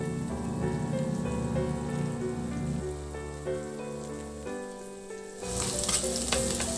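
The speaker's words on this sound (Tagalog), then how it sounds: "Ihalo lang hanggang sa maluto yung sibuyas. Maglagay na rin ako ng mayonnaise." Onions and mayonnaise sizzle steadily in a hot pan for tofu sisig, with repeated scraping stir strokes and a brighter, louder crackle near the end.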